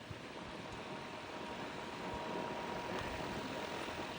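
A ceiling fan spins fast with a steady whooshing drone much like a helicopter, broad and even, fairly quiet and without talk.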